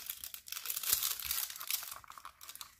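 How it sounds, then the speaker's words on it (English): Scissors cutting the symbol key off the end of a diamond painting canvas, producing a close, crinkly slicing and rustling of plastic-coated canvas lasting a couple of seconds, no speech. "I'm just going to cut this symbol key off of this end."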